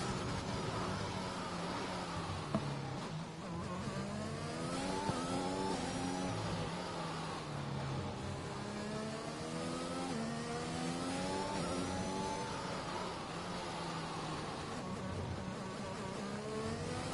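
A race car engine in a racing video game drives a qualifying lap, continuously revving up and down through gear changes and corners, loud and sustained throughout without pause.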